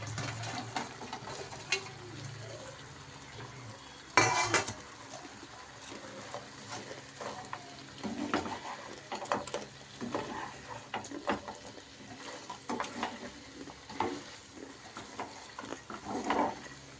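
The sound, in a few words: frying dry cauliflower for gobi manchurian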